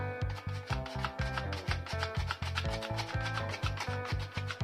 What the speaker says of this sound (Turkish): Kuruma malzemelerimizi topak kalmaması için eleyelim